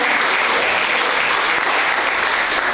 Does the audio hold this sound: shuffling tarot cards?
no